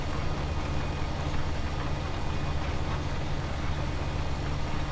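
A tractor engine in the Farming Simulator 2017 video game, a Massey Ferguson working fields at Ballymoon Castle, droning as a steady, dense, unchanging rumble throughout with no talk.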